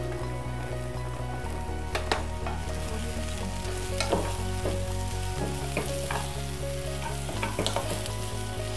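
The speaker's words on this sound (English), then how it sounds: "Then we're going to add all our zucchinis or our courgette" Zucchini (courgette) sautéing in a pan for soup with onion, ginger and garlic, a steady close sizzle broken by scraping stirs of the spoon every second or so, with no voices.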